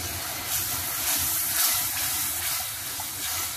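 A steady watery hiss and gush of water poured into frying mince in a hot pan, continuing evenly throughout with no talking.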